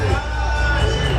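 A large boxing arena crowd reacts to Acelino Freitas with a steady, dense roar of voices and cheering that continues throughout.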